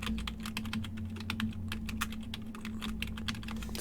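Quick, steady typing on a computer keyboard, a continuous run of light clicky keystrokes close by with no voices.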